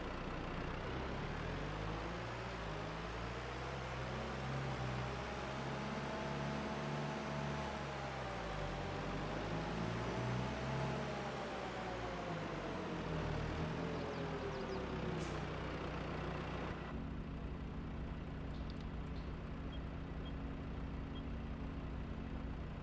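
John Deere 5115M tractor engine running at a steady idle with a low rumbling drone and a slowly wavering hum, which drops to a quieter steady tone near the end with a few faint clicks.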